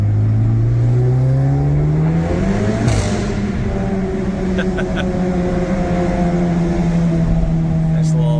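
An Acura Integra A-spec with an MBRP exhaust revs up, the note climbing and then falling back to a steady idle with a sharp pop partway through, loud and close.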